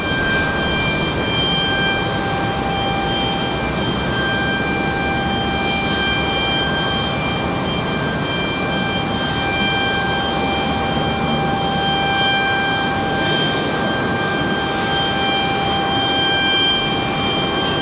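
A passenger airplane passes at Raleigh Durham International Airport, its engine roar a steady, loud wash with a sustained whine that holds throughout without talk.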